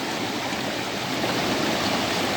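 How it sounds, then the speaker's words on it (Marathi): Water rushes steadily past close by, a loud continuous flow of a stream with no breaks. "बघा असा पाण्याचा प्रवाह"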